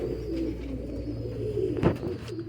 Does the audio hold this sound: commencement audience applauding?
no